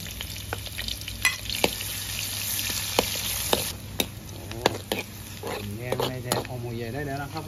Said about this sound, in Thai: น้ำมันร้อนแล้วใส่หอมหัวใหญ่ลงไปก่อน